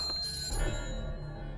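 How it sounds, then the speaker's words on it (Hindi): In a Bollywood crime film scene, a telephone rings unanswered, its electronic ringing holding steady and fairly close throughout the brief moment, with no one answering. "सर, घंटी बज रही है, कोई फोन नहीं उठा रहा है।"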